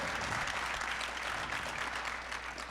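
Conference audience at a blockchain event breaking into steady, dense applause with some cheering, heard from within the hall and sustained for the whole moment.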